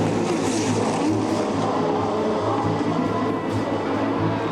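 Formula 1 cars, among them Nigel Mansell's Williams, roaring at a race restart, a dense continuous engine wash with no talk, steady and loud throughout.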